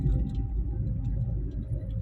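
A Toyota Calya's engine runs with a low, steady rumble that swells slightly as the throttle is applied, heard close by without speech.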